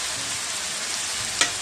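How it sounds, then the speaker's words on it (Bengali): Onion frying in a pan for spiced potato curry, a steady bright hiss of sizzling oil with one sharp clink or stir near the end, close and continuous. "পেঁয়াজ ভাজছে"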